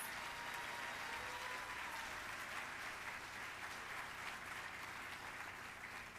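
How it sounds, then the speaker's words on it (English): Audience applause at an employee excellence awards celebration, a continuous even roar of many hands clapping, steady and fairly distant for the whole stretch. "Can we please give a round of applause to all of these incredible employees?"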